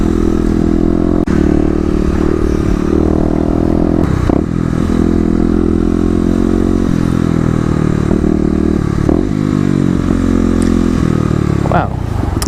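A Kawasaki KLX250 dirt bike rolling over speed bumps in a parking lot, a loud steady engine drone with clattering bumps and shifting, ridden close up.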